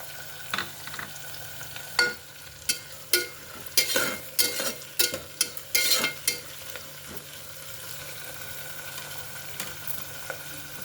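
Soaked cashews hit hot oil in a pan with scattered sharp sizzling bursts and stirring scrapes, busiest in the middle, over a steady low kitchen hum with no talk.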